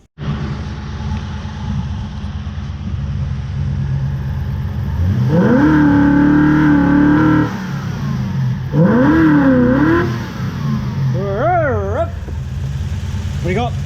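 Toyota Hilux ute with a swapped-in 1UZ V8 engine running close by, settling at idle and then revved up twice in sustained rises before a few quick blips, with voices talking over the engine throughout.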